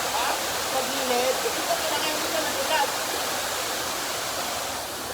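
A waterfall roars in a broad, steady rush of falling water heard up close, with a faint voice briefly under the noise.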